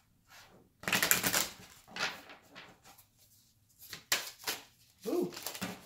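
Tarot cards are shuffled by hand in a few brisk bursts of papery riffling and slapping, close and fairly quiet, separated by short pauses.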